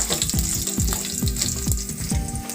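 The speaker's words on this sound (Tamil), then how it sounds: "இது நல்லா பொரிஞ்சு வரட்டும்" Whole spices with a bay leaf torn in two sizzle steadily in hot oil for a dhaba-style paneer masala, a close, continuous hiss broken by repeated low clanks of a spoon against the pan.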